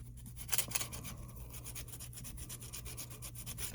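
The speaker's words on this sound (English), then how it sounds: "I'm going to sand these back like that" Sanding old painted door knobs salvaged from a house, a close, continuous scratchy rubbing with a brief sharper scrape near the start, no voices.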